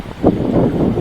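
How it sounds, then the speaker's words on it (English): Strong wind gusting outdoors in Jamaica after Hurricane Melissa, a loud, close, rushing roar buffeting the microphone over a brief moment. "Got lots of wind at the moment"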